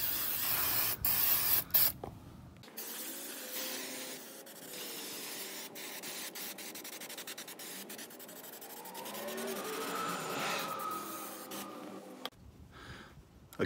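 Close, steady hiss of a Fluid Film aerosol sprayed under a Toro TimeMaster mower deck, one long continuous burst with a shifting rasp as the can moves, then stopping near the end; no voices.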